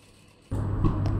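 A sewing machine stitching a garment seam starts up abruptly after a quiet moment, settling into a steady, close whirring hum that runs on evenly with no talk over it.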